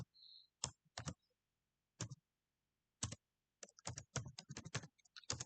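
Bursts of typing on a computer keyboard while writing Python code, close and quiet, arriving as sharp separate clicks with short pauses and then a faster run of keystrokes.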